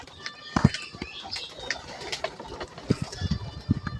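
Domestic pigeons in a coop giving soft repeated throaty coos in short bursts, close by, with faint bird chirps and light rustling in the background and no talk.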